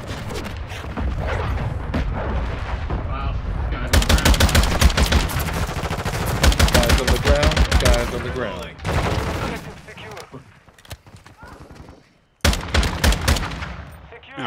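Rapid automatic gunfire in Call of Duty: Modern Warfare II beta multiplayer, dense loud bursts of shots in repeated volleys with brief pauses, mixed with booming impacts.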